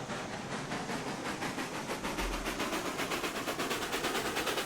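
Rapid, steady steam chuffs from a locomotive in the RailRoads Online game, a rhythmic hissing beat at close range that builds slightly with a low rumble underneath, no talking.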